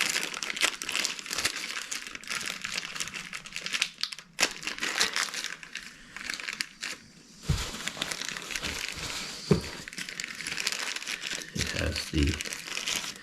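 Plastic packaging from a new oil filter for a John Deere Z930M mower crinkles loudly and continuously up close, with a few brief thuds and a short spoken remark partway through.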